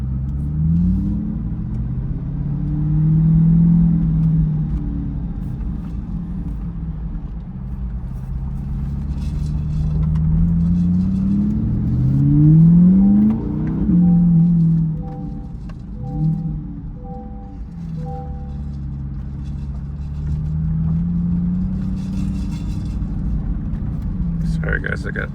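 C8 Corvette E-Ray fitted with an AWE Track Exhaust, heard from inside the cabin with windows up: a steady low engine drone that swells in a few revving pulls, with people talking over it throughout.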